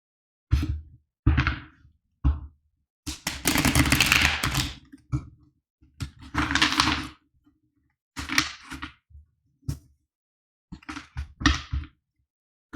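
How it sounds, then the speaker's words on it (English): Oracle cards are shuffled in bursts of crisp riffling and tapping, close and fairly quiet, separated by short silences across the stretch. "Now let's shuffle the cards for pile number 3."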